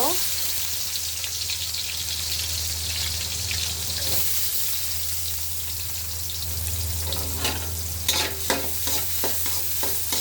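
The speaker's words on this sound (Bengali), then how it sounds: "গরম তেলে পেঁয়াজ দিয়ে দিব" Onions frying in hot oil in a wok, a steady continuous sizzle with scraping stir strokes, louder clattering stirs near the end.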